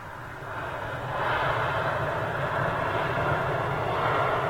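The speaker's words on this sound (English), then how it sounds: "this is the British Airways A320neo, 12th in the fleet, ready for delivery almost" British Airways Airbus A320neo jet at Toulouse after a test flight, its engine roar broad and steady, swelling louder after the first second and holding strong, with no talk.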